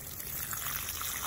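Water mixed with fish emulsion pours steadily from a watering can onto the soil of a raised garden bed, a continuous soft splashing trickle lasting the whole moment.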